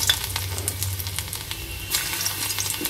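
Chopped garlic and ginger frying in oil in a pan, a steady close sizzle with light stirring scrapes throughout.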